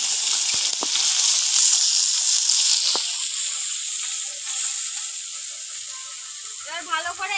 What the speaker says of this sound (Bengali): এবার ভালো করে এপাশ ওপাশ লাল লাল করে মাছগুলোকে ভেজে নেবো।